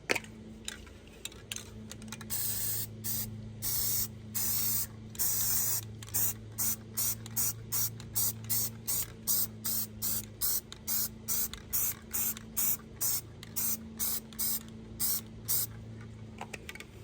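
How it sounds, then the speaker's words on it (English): Aerosol can of bonding primer sprayed onto hardware in repeated short bursts, a steady rhythmic hiss pulsing on and off close to the microphone with a faint low hum underneath. "I'm gonna go ahead and spray the front side now"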